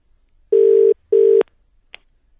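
A phone call rings back through the handset as two long, even ringback tones separated by a pause, then a faint click as the line connects.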